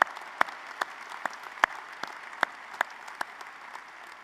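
Sparse clapping at a spring college commencement ceremony, a few hands striking in an irregular, fairly close rhythm, individual claps standing out sharply against a quiet hall.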